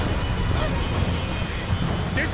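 Steady rain with a low rumbling thunderstorm in the Tomb Raider video game, a continuous dense wash of falling water and deep rolling rumble, with faint voices briefly surfacing.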